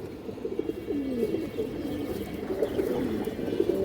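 Male pigeons offered for sale give a steady stream of warbling coos, low and rolling, overlapping one another at close range for several seconds without any speech.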